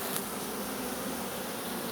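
Swarming honeybees hum thickly in front of their hive in July, an unbroken close buzz of many wings, steady in loudness and heard alone.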